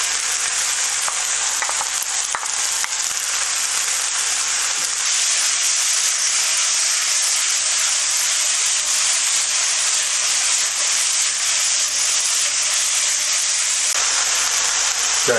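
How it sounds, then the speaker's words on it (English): Mushrooms and bacon frying over high heat for tortellini alfredo, a loud, constant sizzle and hiss close by, holding evenly throughout with faint stirring clicks and no talking. "Once the mushies start to get a little bit of slight bit of colour, put in the bacon."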